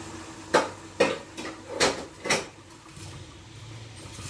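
A metal lid clinks onto a cooking pot of egg curry with cauliflower and potato: four short, fairly close clanks in quick succession, then quiet kitchen background.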